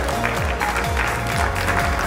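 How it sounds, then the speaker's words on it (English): An audience at a Hindi feature film event applauds, a dense steady wash of clapping filling the whole moment at close range. "Please give a big round of applause."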